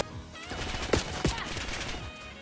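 Gunfire in Black Ops 6, a teammate's weapon firing two sharp, close shots about a third of a second apart amid a busy game soundscape.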